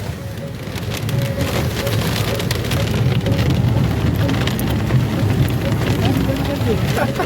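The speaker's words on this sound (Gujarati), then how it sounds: "બરફ જેવો વરસાદ છે, બરફ જેવો." Heavy storm rain near Kedarnath pelting a vehicle like hail, a loud dense drumming roar that swells after the first second and stays steady, with voices faintly underneath.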